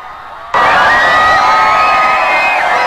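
Dense crowd of Filipinos cheering, whistling and shouting for Pope Francis's passing motorcade, erupting suddenly from a quieter murmur into a loud, sustained roar.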